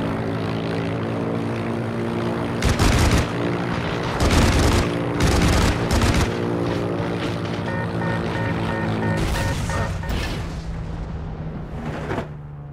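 A propeller airplane in the Heroes & Generals video game drones steadily at close range, its engine hum continuous with several louder surges and booms cutting through, no talk.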